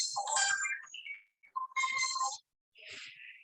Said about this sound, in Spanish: Siempre hay alguien que te llama por teléfono.